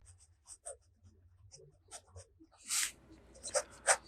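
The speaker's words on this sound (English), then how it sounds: "The next writing sample is done in a FieldNotes Steno notebook." A Sailor 1911 Standard fountain pen with a music nib scratching across a FieldNotes Steno notebook, in short soft strokes and pauses, very close and quiet, ending in a few louder scrapes.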